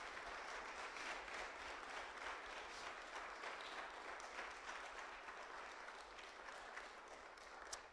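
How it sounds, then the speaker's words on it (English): A church congregation at a morning service breaks into steady, dense applause, many hands clapping together at a faint, distant level for the whole stretch. "So give him a round of applause this morning."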